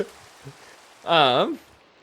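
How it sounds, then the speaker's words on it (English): Steady, faint rain hisses in Minecraft on an All the Mods 9 modpack server. Midway through, a brief warbling tonal sound rises over the rain. "it's obviously always going to be raining on this server"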